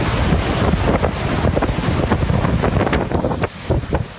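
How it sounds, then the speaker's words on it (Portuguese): Heavy rain and strong wind sweep an empty city street in a storm, a loud, steady broadband roar with gusty buffeting against the microphone and no voices. "Agora está intensificando as chuvas."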